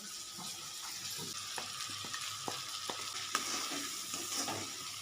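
Steady frying sizzle of semolina with scraping stirs in a pan, a few sharp clicks of a utensil against metal, no voices.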